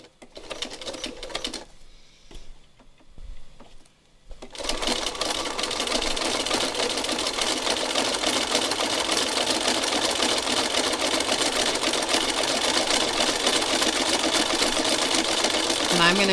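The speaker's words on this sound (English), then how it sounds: "now it's going to make a stitch that's closer together and wider" Sewing machine stitching fabric coated with acrylic paint, starting with a few short runs and pauses, then a steady, loud, continuous mechanical whir for about twelve seconds.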